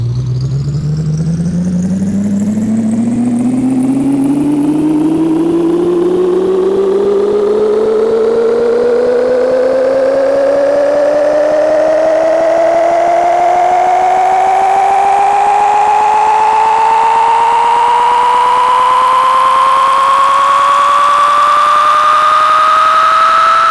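In the video game Big Rigs, a truck engine plays a loud synthetic whine while reversing. The pitch climbs steadily and continuously for over twenty seconds, alone with no talk.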